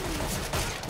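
P90 submachine gun fire in Counter-Strike: Global Offensive, a dense, continuous burst of rapid shots filling the second at steady loudness with no talk.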